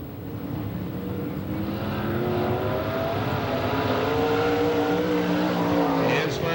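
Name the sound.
race car, Phil O'Donnell's car 27, on qualifying lap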